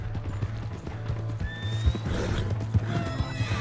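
A horse in Red Dead Redemption 2 whinnies over steady clip-clopping hooves, loud and close, with a busy mix of game ambience underneath.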